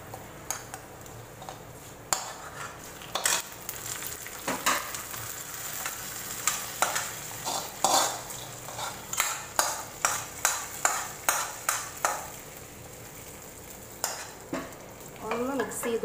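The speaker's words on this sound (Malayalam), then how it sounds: "കടുക് വറുത്തതും നമ്മുടെ പച്ചടിയിലേക്ക് ഒഴിച്ചു കൊടുക്കാം." A fried mustard seed tempering poured into cucumber pachadi for a sadya meal and stirred in: light sizzling under a run of sharp metallic clinks and scrapes of a spoon against the vessel, close and steady, with no talk.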